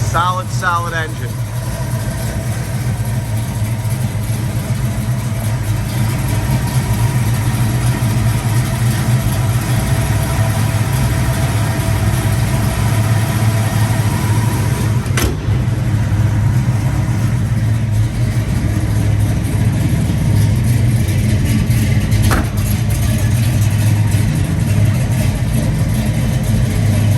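A 1969 Chevrolet Chevelle engine with headers idles close and loud, a steady deep rumble that runs unbroken for nearly half a minute, with someone talking briefly at the start.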